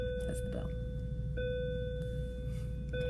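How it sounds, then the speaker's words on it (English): A school bell sounds in the background as a steady electronic tone that holds through the whole clip, faint and distant behind the room's low hum. "That's the bell."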